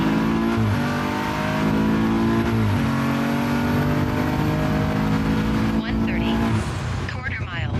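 A BMW 340i with a stock B58 engine and transmission pulls hard through a 0 to 60 launch, its engine note rising in steps through gear changes, loud and close, over a background voice.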